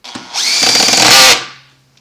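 Power drill driving screws into the valve body of a mechanical water softener control valve, a loud close whirring burst that holds steady for about a second, then winds down and stops.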